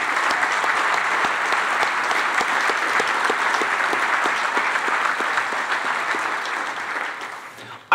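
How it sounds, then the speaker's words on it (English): A large audience applauds corporate partners at an event, a dense, steady patter of many hands clapping close by. The clapping runs evenly for several seconds before it tapers off. "please give them a round of applause"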